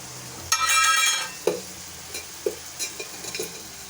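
Spoon stirring gongura (sorrel leaf) chutney with salt and turmeric in a pan: a burst of sizzling scraping, then a few brief separate clinks and scrapes, close and moderately loud, with no talk.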